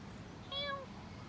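A single short cat meow sounds once, fairly faint, over a steady background hum.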